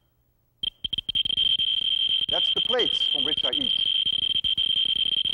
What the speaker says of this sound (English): This is a Geiger tube. This can measure the gamma rays that the uranium emits.